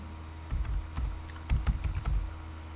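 Someone types on a computer keyboard in a laboratory session, producing a few irregular bursts of close, clacky keystrokes over a faint steady hum, with no talk.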